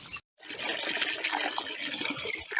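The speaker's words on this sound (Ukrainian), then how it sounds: "Так, іде ось така водичка мутнувата." Murky, calcium-laden water gushes steadily from a freshly cleaned 60-metre borehole with a dry filter, a continuous rushing flow that starts after a short silent gap.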